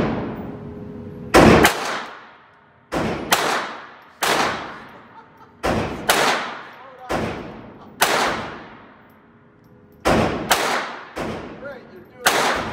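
Sharp gunshots at an outdoor shooting range ring out close and loud, about eight single shots spaced unevenly over several seconds, each with a quick echoing decay and quiet gaps between.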